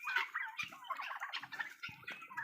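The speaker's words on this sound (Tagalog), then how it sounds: "Ito yung mga pabo natin guys" Several farm turkeys gobble in bursts, close by, overlapping with other birdcalls, including guinea fowl, in a busy outdoor flock.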